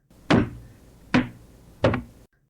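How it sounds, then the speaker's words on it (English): An ordinary wooden box is knocked on its walls three times at an even, unhurried pace, each solid, close rap ringing briefly, with no talking. "Would you give each wall a knock for me"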